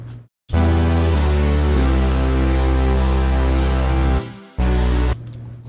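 A heavy, loud synth bass drones through a looping rage-style beat, holding long low notes with brief dropouts before coming back.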